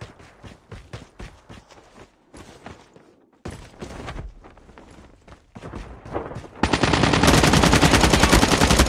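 Rapid bursts of automatic gunfire from the Call of Duty Mobile shooter game crack in quick sequences with brief pauses, building to a dense, loud sustained barrage near the end.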